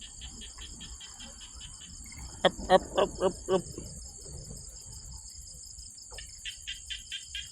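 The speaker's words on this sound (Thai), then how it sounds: "ดูบรรยากาศแคมป์น้องฟังเสียงกบเสียงเขียด" Frogs call at night around a camp: a quick burst of about five croaks sounds close by, while a constant high insect trill runs underneath throughout.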